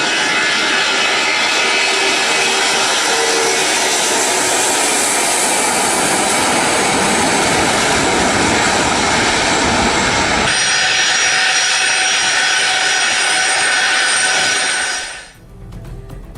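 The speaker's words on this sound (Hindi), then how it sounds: "रूस ने अपना बेहद सुरक्षित डूम्सडे प्लेन तेहरान भेजा है" Loud, sustained roar of a Russian doomsday plane's engines, holding steady for about fifteen seconds before cutting off sharply.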